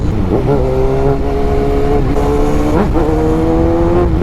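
Kawasaki Ninja ZX-6R 636cc sport bike, heard from the rider's position, roars loudly and steadily with its engine pitch climbing, breaking off at a gear shift and then rising again.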